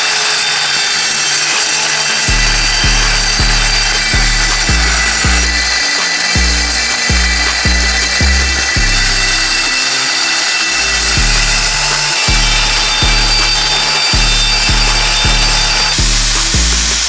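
A loud, steady cold cut saw grinding through metal for a custom Toyota Hilux front bumper, with a continuous high whine and rhythmic low thumps repeating throughout.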